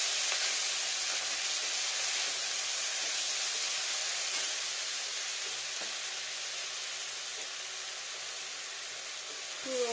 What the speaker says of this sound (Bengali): ভালো করে ফ্রাই করবো।